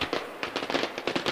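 Fireworks go off in the game Generation Zero, a close, rapid string of loud crackling pops bursting in irregular clusters like firecrackers.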